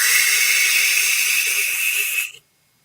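A person's voice imitates the screech of a Lechusa, the witch-bird of folklore, with a loud, sustained hissing screech that holds steady for about two seconds and then cuts off into silence.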